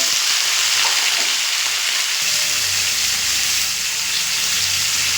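Onion and pumpkin pieces fry in hot oil, making a loud, dense, steady sizzle that holds its level throughout, with occasional stirring and no speech.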